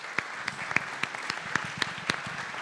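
Scattered audience applause at a public forum on security and justice, with sharp individual claps standing out over a softer, steady patter for a few seconds.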